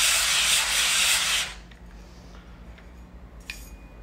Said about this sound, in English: So we've got a nice clean, a nice sanded surface.